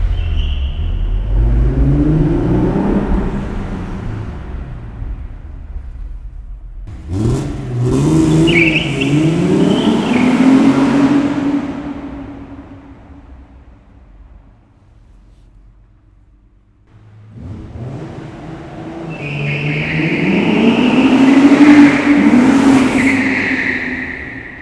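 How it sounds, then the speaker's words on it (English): Fiat 130 coupé V6 engine revving loudly in three long bursts, rising and falling with a short quiet gap between them, heard close up near empty, disused warehouses. "So we're going to try and get that wonderful V6 race-bred sound."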